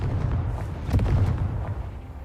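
Confringo fire spell exploding in a Harry Potter wizarding video game, a dense rumbling blast with a brighter burst in the middle, loud and sustained over a low steady roar.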